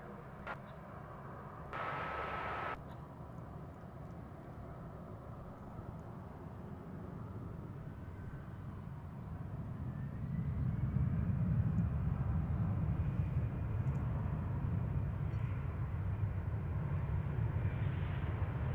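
A Qantas Flight 7 airliner at DFW airport: a faint, distant engine roar that swells into a louder, deeper rumble partway through, with no talk.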